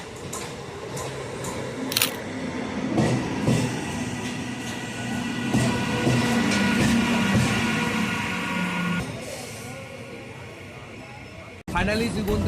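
A Shantipur local passenger train runs at night, its steady broadband rumble and rattle filling the carriage, with a sharp clank near the start, a brief interruption near the end, and people talking underneath.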